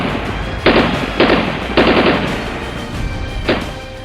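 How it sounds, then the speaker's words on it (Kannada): Gunfire near a BJP office in Bellary, where a gunman fired accidentally: four sharp, loud bursts spaced about a second apart over a noisy outdoor background. "ಇದಕ್ಕೆ ಕಾರಣ ಬಿಜೆಪಿ ಕಚೇರಿ ಬಳಿ ಮಾರ್ತನಿಸಿದ ಗುಂಡಿನ ಮೊರೆತ."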